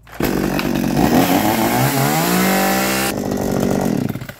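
A smoking chainsaw engine being restarted revs up loudly and runs with a rough, buzzing roar, its pitch rising, then drops to a lower drone near the end.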